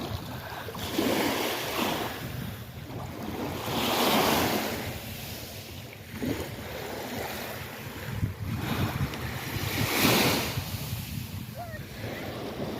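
Ocean waves break on a beach in repeated loud surges of surf a few seconds apart, with wind buffeting the microphone and no talking.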